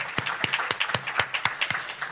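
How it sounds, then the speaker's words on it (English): Guests at an American Cancer Society charity dinner applaud, a few distinct, fairly close hand claps in a loose, uneven rhythm rather than a full ovation. "I think we need a huge round of applause, everybody."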